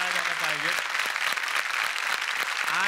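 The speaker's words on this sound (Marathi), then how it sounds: "त्यांच्यासाठी एकदा जोरदार टाळ्या झाल्या पाहिजेत" A studio audience at a Marathi comedy stage show bursts into loud, sustained applause for the police, dense clapping filling the whole moment while a voice carries faintly underneath.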